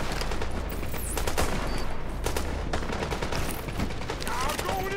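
Dense gunfire in The Division, rapid automatic bursts and single cracks overlapping continuously at close range, with a faint game voice line under the shooting.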